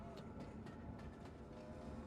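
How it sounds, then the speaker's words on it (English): A train in the video game Vampyr rumbles past as a low, steady, faint rolling drone with soft rhythmic clatter, heard alone without talking. "Interesting to have the train going by."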